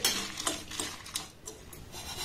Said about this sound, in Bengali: এবার মশলাটাকে একটু নাড়াচাড়া করে ভেজে নেব।